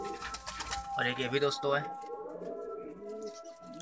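Domestic pigeons on a rooftop give a soft cooing call in the middle while someone talks over it, with faint background noise.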